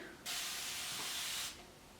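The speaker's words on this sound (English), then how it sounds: "you just spray it once, and then the mist comes out" A continuous mist spray bottle releases one long, even hiss of fine spray onto hair, lasting a little over a second before cutting off, heard close and alone with no talking.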